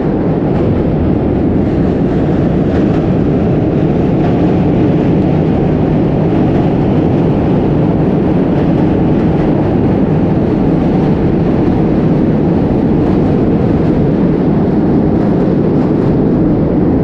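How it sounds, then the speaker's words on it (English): Subway trains crossing the Manhattan Bridge overhead produce a loud, continuous low rumble and roar, heavy and unbroken throughout, heard from beneath the bridge. "The trains are constantly going over the Manhattan Bridge above."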